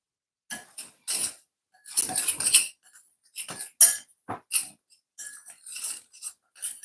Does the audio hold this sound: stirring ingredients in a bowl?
yes